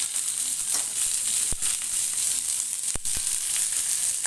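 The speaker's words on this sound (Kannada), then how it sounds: "ಇವಾಗ ಈರುಳ್ಳಿ ಬೆಳ್ಳುಳ್ಳಿ ನಾನು ಸೇರಿಸ್ಕೊತೀನಿ ಒಂದು ಸ್ಪೂನ್ ಎಣ್ಣೆ ಹಾಕ್ಕೊಂಡು" Chopped onion and garlic frying in a spoonful of oil, a steady bright sizzle with a couple of sharp clicks of a spoon against the pan, close and continuous.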